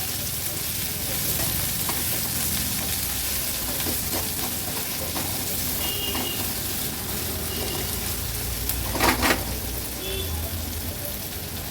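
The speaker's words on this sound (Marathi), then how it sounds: "कांदा व्यवस्थित तेलावर आपल्याला शिजवून घ्यायचा आहे" Finely chopped onion fries in oil with a pinch of hing for a Maharashtrian vegetable thali, sizzling steadily, with stirring scrapes and a brief louder clatter near the end.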